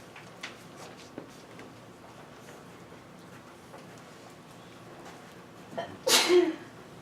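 A single loud sneeze bursts out near the end after several seconds of quiet lecture-room noise and faint scattered clicks.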